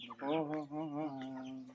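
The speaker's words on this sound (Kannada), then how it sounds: "ಟರ್ಕಿ ಕೋಳಿ" A turkey on a farm gives a single drawn-out, wavering call lasting under two seconds, close and fairly clear with no talking.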